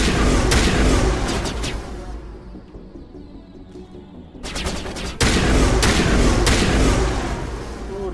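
Rapid bursts of gunfire and impacts from a Mass Effect Legendary Edition firefight, loud and dense, broken by a quieter lull in the middle before the shooting resumes at full intensity.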